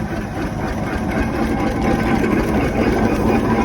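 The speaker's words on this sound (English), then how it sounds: "traction engine, single cylinder, you can hear it chuff as it goes round" A single-cylinder steam traction engine at a country steam fair chuffs steadily as it moves along, a loud, close, even exhaust beat over a rumbling mechanical background with no talk.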